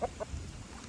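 Chicken at a village henhouse giving two quick, close clucks followed by a low rustle.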